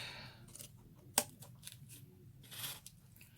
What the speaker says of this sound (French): à l'aide d'un ciseau, on va venir découper le surplus.